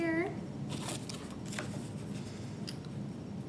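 Scissors cut through cardboard for a recycled book box, making a few faint, scattered snipping and crunching sounds close by after a brief voice at the start, with soft room noise underneath.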